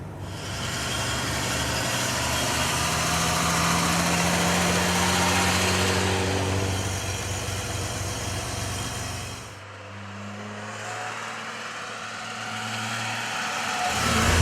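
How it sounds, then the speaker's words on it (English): Mercedes-Benz 300 SL engine driving through the Californian hills, a steady loud drone holding for about nine seconds, dipping briefly, then resuming and swelling at the end. "There probably is nothing that beats driving a 300 SL, especially in the Californian hills."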